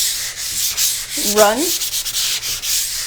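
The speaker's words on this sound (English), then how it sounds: "We're going to jump in here with our sanding sponge, which is very gentle. This is a 220 grit" A gentle 220 grit sanding sponge rubs back and forth over a chalk mineral painted dresser, close, rhythmic scratchy strokes with brief pauses, and a short voiced sound in the middle.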